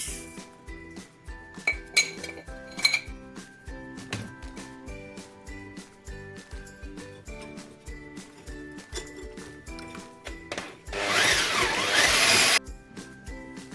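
Metal clinks and taps rhythmically against a bowl as egg whites are whisked with sugar, with a brief louder burst of rushing noise near the end.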